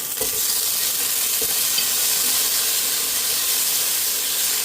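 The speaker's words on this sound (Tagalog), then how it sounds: "Mas mainam na sinasangkot siya, lalo na yung kamatis para talagang lumalabas yung pinakakatas niya." Tomatoes sautéing for beef sinigang give off a steady, close sizzle and hiss, with a few brief stirring knocks near the start and no voices.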